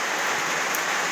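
Heavy monsoon rain pours steadily outdoors as a dense, loud, unbroken hiss that fills the whole moment, with no voices.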